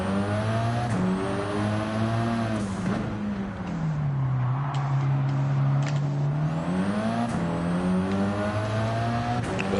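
Ford Escort Cosworth race car engine in a racing game, revving continuously with rising pitch through the gears, each upshift dropping the tone before it climbs again, loud and close throughout.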